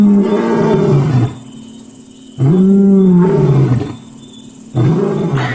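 A lion roars close by, loud and deep, in three long moaning bursts separated by short pauses, with no talking.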